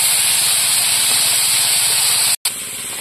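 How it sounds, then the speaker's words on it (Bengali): Bitter gourd fries in oil, giving a loud, steady, close hiss that breaks off for a brief instant before resuming. "এইভাবে উচ্ছেটা এবার ভাজা করে নেব।"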